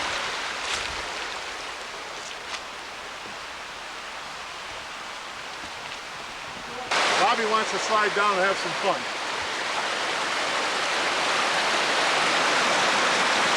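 A 14-foot waterfall's moving water rushes as a constant broad roar outdoors during a deer hunt, steady throughout and growing louder, with someone speaking briefly over it midway.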